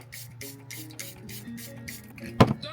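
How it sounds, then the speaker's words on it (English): Makeup setting spray mists out in several soft, breathy bursts at a steady pace, ending in one sharper, louder spritz, all close and quiet, with no talk. "I never close my eyes when I spray my setting spray."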